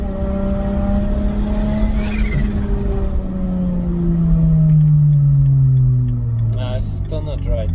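Single-turbo BMW 335i engine revving up and falling back under load, a loud sweeping drone with a brief rise and settle, short whistly turbo chirps near the end, with a voice talking over it.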